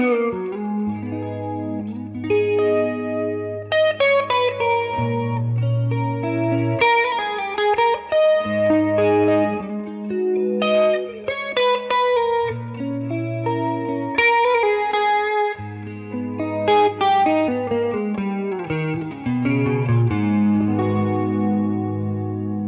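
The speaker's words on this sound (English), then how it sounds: "you can hear kind of the classic sound of the Jazzmaster and that brittle sound that these pickups have" A Fender Jazzmaster electric guitar strummed with a pick through a vibrato pedal, ringing chord voicings with a bright, brittle, wobbling tone and deep sustained low notes, played continuously up close with no talking.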